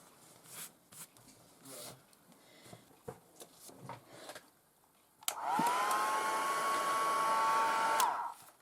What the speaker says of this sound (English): So I'll just use the heat gun on it